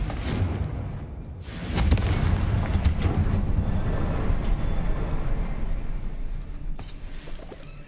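A Confringo fire-blast spell explodes in a Hogwarts video game, producing a deep booming rumble that swells after a sharp onset and keeps rolling loudly for several seconds.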